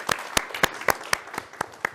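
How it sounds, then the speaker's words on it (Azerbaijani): Sparse, evenly spaced hand claps in a TV studio on a talent show, about eight sharp, crisp claps heard in a row, fairly close with little else around them. "Bir alqışlayaq xanımları"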